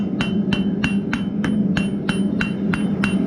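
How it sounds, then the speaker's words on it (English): A blacksmith hammers hot metal while forging a hook on an anvil, delivering steady, evenly spaced ringing blows, about three per second, loud and close with no talking. "as you're hammering, if you hit the wrong spot too hard, you'll make a really aggressive transition"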